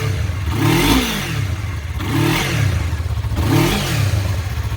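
MT03/R3 motorcycle with a Two Brothers Racing slip-on exhaust, revved three times in steady succession, each throttle blip rising and falling over idle, loud and close outdoors in cold weather with no talking.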